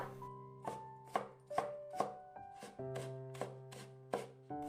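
A knife chops half a carrot into fine strips on a cutting board, with about nine crisp, evenly spaced chops close up. Steady tonal music plays underneath, and no one speaks.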